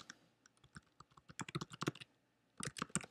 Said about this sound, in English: sorry, I can't talk and type at the same time